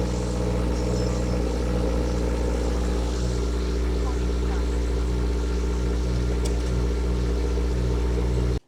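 Subaru engine cold start, apparently a 2022 model with about 22,000 miles: a steady low rumble and idle drone close by, continuous and even until it cuts off abruptly at the end.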